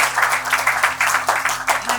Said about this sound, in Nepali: एकचोटि हामी ताली बजाएर